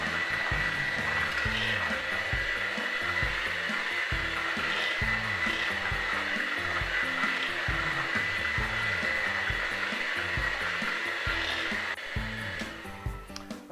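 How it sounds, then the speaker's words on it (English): An electric mixer beats a third of a cup of shortening until fluffy, giving a steady loud whir with a rapid rhythmic chop as the beaters work, running continuously before easing off at the end. "We're going to get our mixer. We're going to fluff this up."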